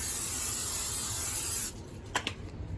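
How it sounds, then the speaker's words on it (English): Cooking spray hisses steadily from a can onto a cake pan for over a second and a half, a loud, close, continuous aerosol spray that cuts off abruptly, followed by a couple of faint handling clicks. "And then we are going to spray the pan"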